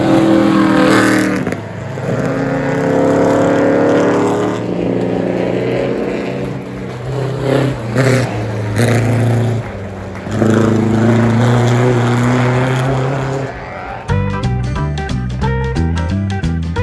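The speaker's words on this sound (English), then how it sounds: "Here's Ian Baxter's Alta that took the winning laurels, a 1937 car" A 1937 Alta racing car at the Goodwood Revival race meeting, its engine loud and close with a steady droning roar and shifting pitch, ending in sharp bursts of rapid revving.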